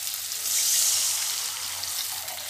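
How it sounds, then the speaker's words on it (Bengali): Water poured into a pan of simmering Bengali fish curry with ground onion and spices, a steady broadband rush and sizzle swelling early and then holding evenly throughout, close and moderately loud, with no talking. "অল্প করে জল দেব"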